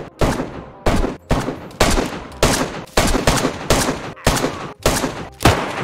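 Bursts of rapid gunfire in the video game DayZ, about ten sharp volleys in quick succession with brief gaps between them, loud and close.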